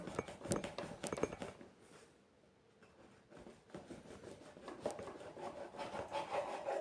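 A knife sawing through a loaf of bread, a close, gritty rasping that comes in short strokes, pauses briefly, then resumes with steady back-and-forth cutting.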